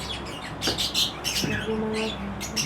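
Pet birds in a home breeding setup chirp and squawk close by in short, busy bursts, with a few tonal calls over steady background noise.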